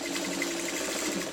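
A sewing machine runs continuously while stitching quilt pieces together for a quilt top, a steady close mechanical whir without pauses or voices.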